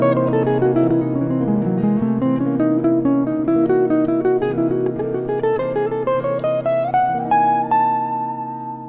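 Harmonic minor scale played from the flat 9 over a dominant chord for an altered dominant sound: a sustained chord beneath an even line of single notes climbing steadily, clean and close with no voices, fading at the end.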